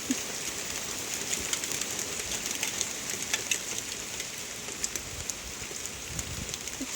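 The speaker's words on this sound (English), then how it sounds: "Clear sky, and it's pouring down rain." Heavy rain pours down under a clear sky, a dense, constant hiss of drops striking surfaces, steady and fairly close throughout.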